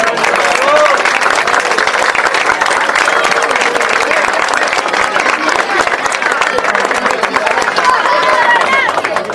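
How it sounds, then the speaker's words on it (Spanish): Enthusiastic applause for the coaches at a rugby club's year-end party, loud, dense clapping from a large crowd with cheering and chatter mixed in, lasting throughout. "Y un aplauso para todos los entrenadores que están acá."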